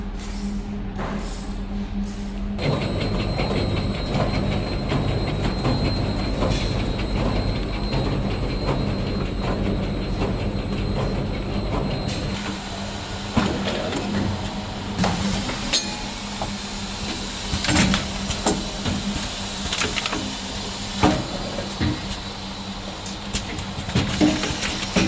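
A mini premade pouch doypack packing machine runs through heat sealing and product output, giving a steady mechanical hum and hiss with repeated clanks and rattles that grow busier partway through, with no voices.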